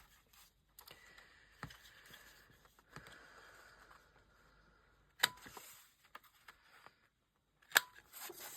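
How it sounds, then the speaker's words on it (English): Scissors cut the corners of folded sheet music pages in a quiet room, with a few sharp snips standing out against soft rustling and handling noises. "I'm just going to snip the corners."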